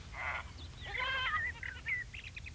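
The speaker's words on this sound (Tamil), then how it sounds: "ஆடுங்களை மேய்ச்சிட்டு இருக்கேன்." Goats bleating while grazing in a pasture: several wavering, nasal bleats in quick succession, one longer call followed by shorter overlapping cries, fairly close over a low background rumble.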